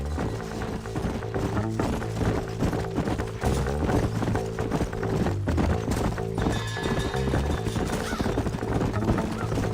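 Horses gallop in Red Dead Redemption, their rhythmic clip-clop hoofbeats pounding steadily beneath a dense, continuous music score throughout.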